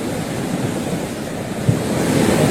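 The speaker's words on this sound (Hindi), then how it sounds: "हल्द्वानी में गौला नदी लगातार रौद्र रूप में दिखाई दे रही है" The flooded Gaula river in Haldwani, Uttarakhand, rushes in a loud, constant roar of churning water, heard close with some wind buffeting the microphone and no speech.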